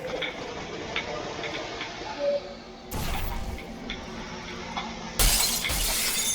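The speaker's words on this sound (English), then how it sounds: "That's not very stable glass." Glass shatters twice in Portal 2, two sharp bright crashes of breaking panes, the second louder, over a steady humming test-chamber ambience with faint ticking.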